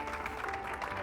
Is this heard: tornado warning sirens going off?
no